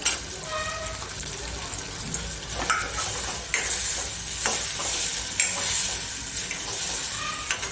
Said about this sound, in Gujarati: હવે આમાં એક બટેકો નાખીશું મેં સમારીને તૈયાર કરી લીધું છે